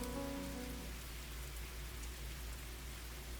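Steady rain patters in the Fallstreak video game, a continuous even hiss of drops on surfaces, moderately loud and unbroken, with no voices.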